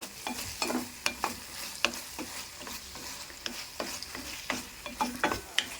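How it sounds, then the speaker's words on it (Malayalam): A spoon scrapes and clacks in a steady, repeated rhythm as mushrooms are stirred in a pan, with a soft frying sizzle underneath, close and moderately loud. "ഇതിനി നന്നായിട്ട് ഫ്രൈ ആകണോടം വരെ ഇളക്കണം എന്നാണ് എൻ്റെ ഒരു വിശ്വാസം"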